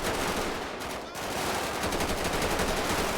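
Dense gunfire rattles in a shootout in GTA 5, a loud, continuous near burst of rapid shots from several guns with barely a pause.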